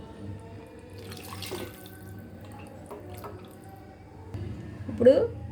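Water runs and splashes from a tap into a cooking pot holding tamarind pulp, fairly quiet, ending in a louder splash near the end.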